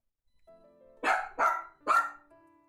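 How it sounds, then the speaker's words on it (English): Three loud, close dog barks in quick succession rise out of a quiet room with a faint hum, evenly spaced about half a second apart, with no talking. "Dog!"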